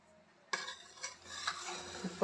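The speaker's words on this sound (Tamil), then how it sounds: "இப்போ ரைஸ் அப்படியே கிளறிக்கலாம்." A spoon stirs cooked mint and coriander pulao rice in a pot, starting abruptly after a short silence, with several scraping strokes and soft clinks against the metal, close and fairly clear.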